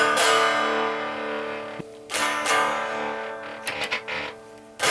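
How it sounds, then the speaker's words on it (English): A Squier Champ 15 guitar amp with distortion switched on plays loud, buzzing, saturated chords, with strummed bursts ringing out, breaking off and returning in choppy stabs. "Oh, there's where that's with the distortion on."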